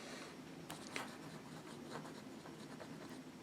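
A Pilot Custom 74 fountain pen with a music nib scratches and glides across paper in soft, close strokes, quiet and continuous with a few slightly sharper ticks.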